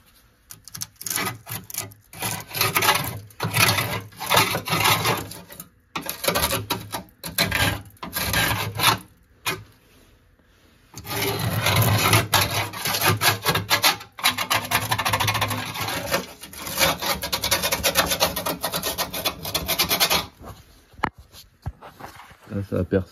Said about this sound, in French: On va gratter un peu pour voir.